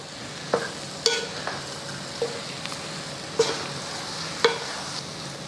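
Sugar stirred into soft, grainy semolina sheera in a pan, a low steady scraping murmur punctuated by a few sharp clinks of the spoon against the pan.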